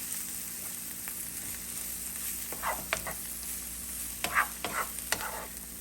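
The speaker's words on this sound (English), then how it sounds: "So my onion is still frying." Onion sizzles softly in a hot pan over medium heat, with a few stirring scrapes breaking through the steady frying hiss.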